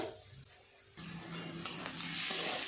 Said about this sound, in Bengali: দেখি পেঁয়াজটা কতটা ভাজা হলো